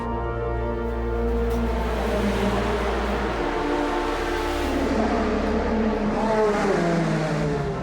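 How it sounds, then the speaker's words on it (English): A race car at speed through the Porsche curves during an endurance race: a steady, loud engine roar that holds throughout, its pitch shifting as the car passes. "Orodchev drops a wheel onto the grass at the beginning of the Porsche curves and a high-speed off"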